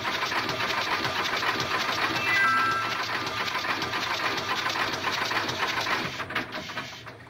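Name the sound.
boat engine running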